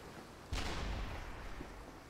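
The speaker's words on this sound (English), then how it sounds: "They're just gonna try to shoot cannons at me." A single heavy cannon blast in the video game Arcane Odyssey hits suddenly, then a long rumbling decay fades over the next second and a half against low background noise.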